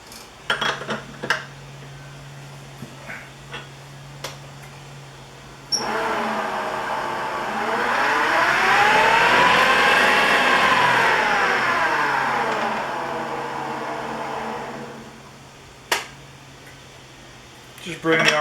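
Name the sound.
wood lathe spinning up with segmented rings on chuck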